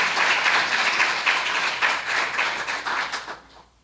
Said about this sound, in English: So let us give NCDS and ANLEC a round of applause